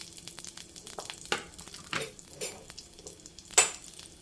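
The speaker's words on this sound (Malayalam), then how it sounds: "അതിലേക്ക് നമ്മൾ കട്ട് ചെയ്ത് വെച്ചിരിക്കുന്ന ഇഞ്ചി, വെളുത്തുള്ളി, പച്ചമുളക് ഇത്ര ഇട്ട് കൊടുത്തു." Chopped ginger, garlic and green chili frying in hot coconut oil for a fish curry, a crackling sizzle broken by spoon scrapes against the pan and a sharp clink near the end, no voices.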